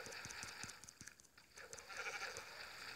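Sheep bleat repeatedly in the Minecraft Pocket Edition game, a series of short, fairly loud calls in the foreground that continue through most of the moment with no talking over them.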